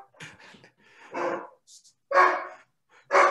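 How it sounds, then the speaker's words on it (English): A single dog barking indoors in several short, loud bursts, close to the microphone, with quiet gaps between barks. "Sorry, guys, that's my dog."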